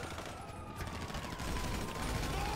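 Gunfire in the video game GTA 5, rapid bursts of automatic shots and scattered impacts during a firefight, fairly faint and continuous through the clip.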